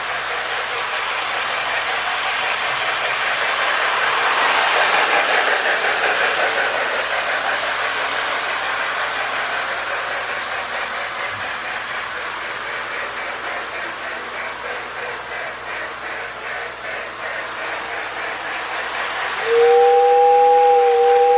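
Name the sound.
toy model train running on track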